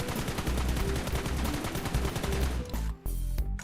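Rapid automatic gunfire in the mobile battle game PUBG Mobile, loud bursts of close shots in quick rhythm that stop briefly near the end, then resume.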